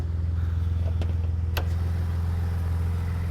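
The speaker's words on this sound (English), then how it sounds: "So you hear the exhaust," A 4x4 truck with twin turbos and an aftermarket intake idles with a steady, deep exhaust rumble, with a couple of short sharp hissing bursts suggestive of blow-off valves near the middle.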